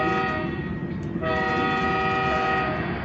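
A train horn in a train simulator game blares steadily through a tunnel, one long, loud, continuous blast over heavy rumbling rail noise, with a brief dip midway.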